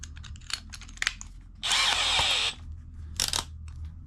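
A power drill whirs in one short burst of just under a second, turning a socket adapter on a scissor jack, surrounded by light clicks and handling taps from tools being fitted.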